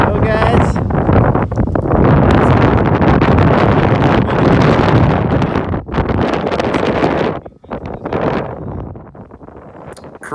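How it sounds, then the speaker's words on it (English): Strong gusting wind buffets the microphone on an open beach among sand dunes, a loud, continuous roar with brief dips, with a voice talking underneath. "Crazy that wind, right?"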